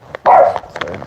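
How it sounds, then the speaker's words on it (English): A house dog lets out one loud, close bark on the way down to the basement, followed by softer yips and shuffling noises. "So the dog barks."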